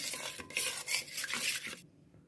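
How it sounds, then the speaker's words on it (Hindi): Spices stirred together in a bowl for a pressure-cooker steam roast chicken, a busy scraping and clinking of utensil against dish that runs steadily, then stops sharply near the end, leaving quiet. "अब इन सब मसालों को मैं अच्छी तरह मिक्स कर लूँगी।"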